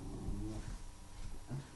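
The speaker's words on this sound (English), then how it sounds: "are you just going to keep howling and barking at nothing?" A dog growls and gives low, rough barking howls close by, in uneven bursts with short gaps between them.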